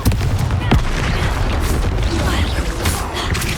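Confringo blasting spell striking a troll in Hogwarts Legacy, a dense barrage of loud booming impacts and crackling bursts layered over continuous combat noise, with a sharp hit standing out near the start.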